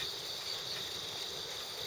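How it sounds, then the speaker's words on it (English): Crickets chirp in a steady, high, continuous trill along a side street in Japan, faint and slightly distant, with no voices. "They do chirp, chirp."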